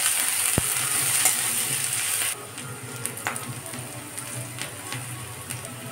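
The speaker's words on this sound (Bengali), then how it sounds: "রসুন আর পেঁয়াজ কুচি দিয়ে দেবো, একটু কাঁচা লঙ্কা দিয়ে দিলাম 3টা, দিয়ে ভালো করে লাল করে ভেজে নেব" Chopped garlic, onion and three green chilies frying in oil, a loud bright sizzle for the first two seconds that drops to a quieter steady crackle with occasional stirring clicks, no talking.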